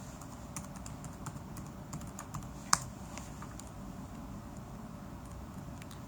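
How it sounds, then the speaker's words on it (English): Keystrokes on a computer keyboard while a new telephone number is entered: a quiet run of light, irregular clicks with one sharper tap midway, close and alone. "We will then type in the new telephone number."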